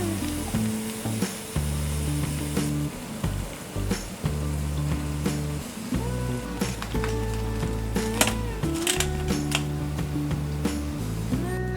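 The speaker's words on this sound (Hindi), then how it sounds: "इसी तरह हम बाकी सारे ब्रेड रोल्स मीडियम फ्लेम में फ्राई कर लेंगे।" Bread potato rolls fry in hot oil over a medium flame, filling the air with a constant, close crackling sizzle and scattered pops throughout, with no voices.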